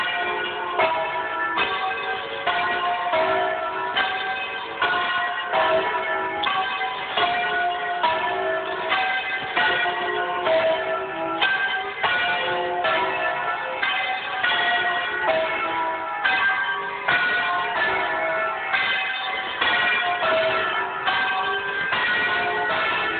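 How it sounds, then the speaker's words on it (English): Church bells rung by hand in a bell tower in Cardoso, Italy, peal loudly and close in a continuous rhythmic sequence of overlapping strikes that keeps going without pause, with no talking. "ringing the bells by hand"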